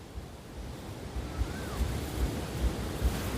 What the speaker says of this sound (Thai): ลมแรงลมแรง